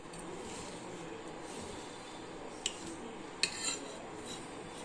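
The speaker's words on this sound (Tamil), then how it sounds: "இப்போ ரெண்டு பாத்திரத்தில் எடுத்து பிரித்து வச்சுருவேன்" Rice batter ground from raw rice being divided between two vessels, with a couple of sharp clinks of metal utensils against the pots over a faint, steady background hiss.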